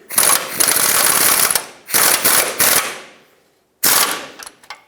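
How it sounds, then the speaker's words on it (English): A 24mm socket ratchet tightens the lower control arm nut on a 1996-2002 Toyota 4Runner, in three loud, close bursts of rapid clicking separated by short pauses. "put a 24 socket on the nut side and tighten these up"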